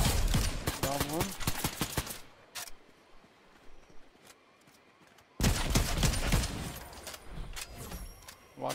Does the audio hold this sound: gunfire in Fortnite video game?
yes